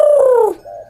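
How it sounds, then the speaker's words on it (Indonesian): A spotted dove (tekukur) gives a loud, close, smooth descending coo followed by a shorter, softer second note, with nothing else around it. "tiba-tiba terdengar lagi suara burung tekukur yang sempat ngikutin mereka di jalanan"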